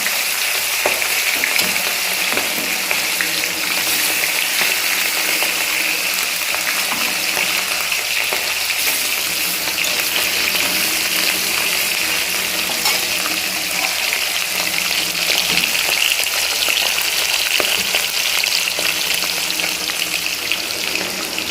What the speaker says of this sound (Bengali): মাছ ভাজার আওয়াজ, বৃষ্টি পড়ার আওয়াজ, সব কিছুই হচ্ছে